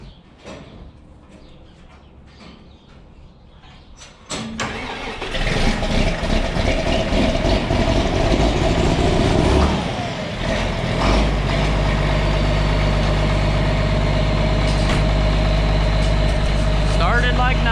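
John Deere 4430 tractor diesel engine cranks and catches at about four seconds, then settles into a loud, steady near idle with a deep low rumble and mechanical clatter, with a brief dip around ten seconds before the idle evens out.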